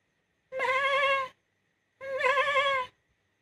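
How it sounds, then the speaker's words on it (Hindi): A goat bleats twice, each call a loud, wavering, nasal cry of just under a second, with a short pause between them and no other sound around. "ये बकरी"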